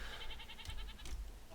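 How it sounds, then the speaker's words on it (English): Sheep bleat in the Minecraft game ZooCrafting, with a faint, wavering animal cry over a low rumbling background and a couple of short higher-pitched bursts, quiet and with no speech. "Look at them all. They're all grey sheep."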